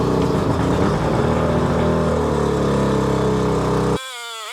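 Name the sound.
two-stroke boat outboard motor running to burn out oil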